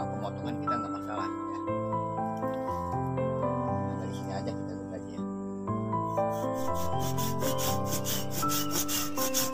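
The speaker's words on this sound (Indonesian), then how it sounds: "Potong dengan gergaji" Rapid rhythmic strokes of a hand saw rasp through avocado tree wood for grafting, growing steady in the second half, over background music.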